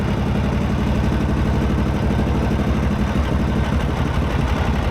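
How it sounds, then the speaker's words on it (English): A 1937 Harley-Davidson Knucklehead motorcycle engine idles with a steady, loud, low throb that runs unbroken and close by, with no talking. "When you start a bike like this, don't start it like a dirt bike, where you kick down and come back up."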